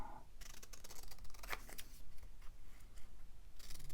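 Scissors trim a paper Paris stamp for a junk journal, giving a few soft, close snips and rustles of paper against a quiet, hissy background.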